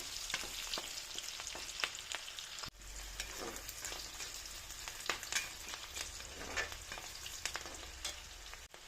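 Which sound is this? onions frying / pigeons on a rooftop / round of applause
onions frying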